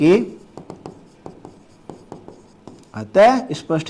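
Pen writing out a Class 10 maths polynomial answer, a series of short scratchy strokes in an irregular rhythm, close, with a voice talking at the start and again at the end.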